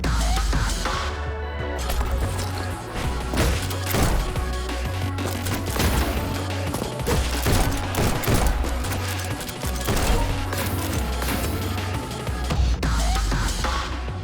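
Rapid gunshots and dashing effects from the speedrunning shooter Neon White crackle densely over driving music, loud and nearly continuous, with repeated sharp hits throughout the run.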